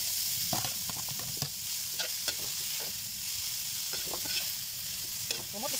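Papaya pieces dropped into sautéed aromatics in a pan, a bright close sizzle with repeated scraping stirs at an uneven rhythm.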